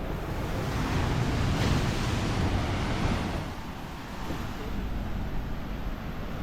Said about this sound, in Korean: 바닷소리가 참 좋습니다.